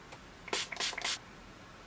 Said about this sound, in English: Spray my brush real quick.